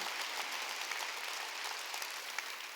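A church congregation at a Wednesday worship service applauds during the sermon, a brief, faint wash of many hands clapping heard from a distance.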